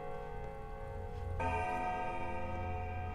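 A layered ding-dong bell chime rings out in the video game Pathologic 2, a sustained tonal drone that swells into a brighter second chime midway and keeps resonating.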